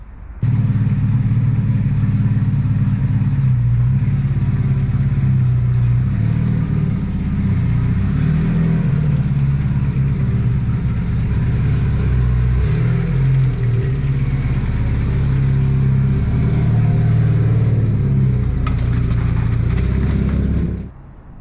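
A car engine idles and rumbles steadily at close range as the car is pulled out, a loud continuous low drone with slight revving changes throughout.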